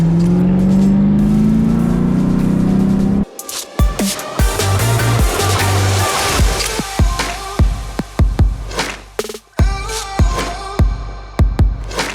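A tuned Toyota Supra fitted with a downpipe rumbles in a rising rev, then cuts off into a busier stretch of sharp pops, clicks and engine noise as it drives at a cars and coffee meet.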